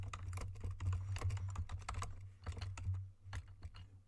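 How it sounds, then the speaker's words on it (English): Rapid typing on a computer keyboard with a Snowball microphone placed right in front of it, close and busy clatter of irregular keystrokes over a steady low hum, with no talking. "It's easier to type if I didn't have this snowball mic sitting right in front of my keyboard."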